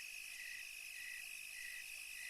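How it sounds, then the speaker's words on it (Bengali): Crickets chirp in pitch darkness on a lonely night path in a Bengali horror cartoon, a faint steady trill pulsing in even bursts with no voices. "নিশিকালো অন্ধকারের মাঝে শুধু ঝিঝি পোকার ডাক কানে ভেসে আসছে"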